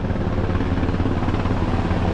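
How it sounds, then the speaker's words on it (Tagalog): Helicopters passing over a farm, a steady loud rotor drone with low thumping that holds throughout, continuous and close, with no voices. "Dami helicopter na dumadaan mga ka-farmer eh."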